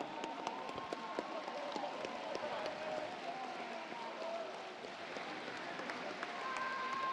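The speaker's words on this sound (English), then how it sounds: "Audience, let's give both teams a round of applause one last time" Audience applause at an FTC robotics state championship finals in Oregon, a broad steady patter of clapping filling the hall throughout, with faint voices and crowd noise mixed in.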